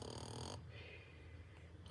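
A narrator's voice imitates snoring, a close, buzzy drawn-out snore followed by a softer breathy exhale.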